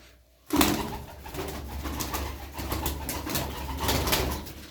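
Tumbler pigeons coo and rustle close by after a brief quiet start, with soft wing flutters and steady background noise throughout.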